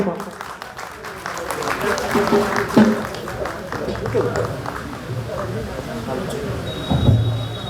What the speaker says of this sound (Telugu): గట్టిగా చప్పట్ల నడుమ